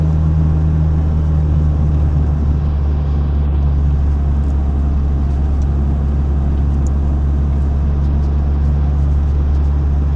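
Droning exhaust of a 180 car while driving, a steady loud low rumble with constant engine hum and no talk.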